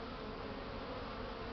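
Honeybees buzzing at a hive entrance in February during the first spring flight, some fanning to ventilate; a steady, dense, close hum that continues without a break.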